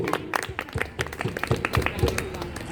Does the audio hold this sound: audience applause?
yes